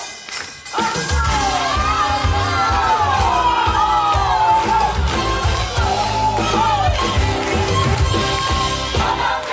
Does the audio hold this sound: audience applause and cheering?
yes